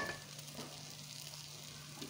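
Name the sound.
frying carrot halwa in a pan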